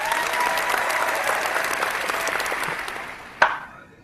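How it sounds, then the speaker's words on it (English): A crowd at an admin hangout gives a dense, steady round of applause for about three seconds, then fades out with a single sharp clap near the end. "so let's all get a round of applause"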